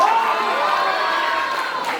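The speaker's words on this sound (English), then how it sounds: "Can we have a round of applause for Sangeeta ma'am there?" An alumni meet audience cheers and applauds together, a dense crowd roar with shouts layered over clapping, steady and fairly loud throughout.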